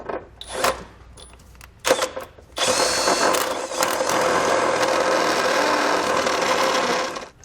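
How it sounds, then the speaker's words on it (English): A step drill bit bores into the steel frame of a 2020 Subaru Forester to enlarge a hole for hitch hardware, a few short grinding bursts followed by several seconds of loud, continuous drilling. "I'm going to use a step bit"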